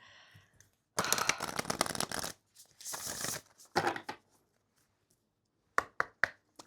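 A deck of oracle cards is shuffled up close in several quick riffling bursts with pauses between, ending in a few sharp taps.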